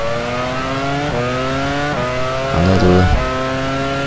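A Formula 1 race car engine roars in the F1 Challenge racing game, loud and high-pitched, with rising revs that drop sharply at each gear change. A brief burst of tire squeal or lock-up comes near the end, and a voice is briefly heard.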